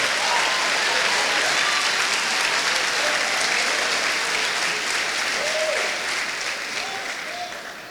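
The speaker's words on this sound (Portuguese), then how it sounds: "Pode dar uma salva de palmas ao Senhor" Church congregation applauding during a sermon, dense sustained clapping from a large crowd that fills the space, with brief cheers and voices mixed in before it slowly tapers off.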